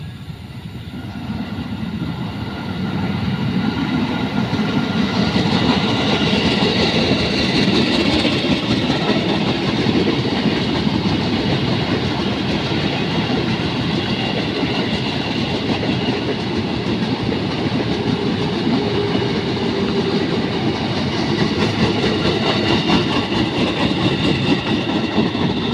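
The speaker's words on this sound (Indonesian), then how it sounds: "KRL tujuan Kampung Bandan via Manggarai." A KRL commuter electric train bound for Kampung Bandan via Manggarai passes at night in Tambun, West Java, a loud sustained rumble with steady clickety-clack of wheels that swells after a few seconds and holds for the rest.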